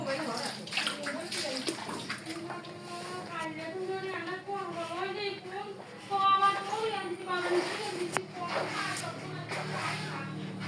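Floodwater inside a village house sloshes and splashes softly under steady, close talking, with children's voices mixed in.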